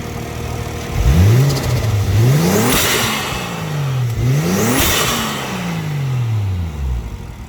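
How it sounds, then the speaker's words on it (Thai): A 2002 Isuzu Dragon Eye pickup with a swapped 1JZ-GTE VVTi turbo engine revs up twice. Each climb ends with a loud hissing whoosh from the blow-off valve as the revs drop back, heard up close with no talking. "เดี๋ยวมาฟังเสียงโบออฟกันนะครับ"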